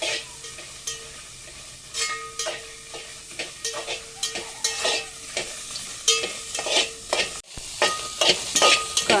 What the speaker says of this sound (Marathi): आता थोडा वेळ तेलामध्ये फ्राय करूया।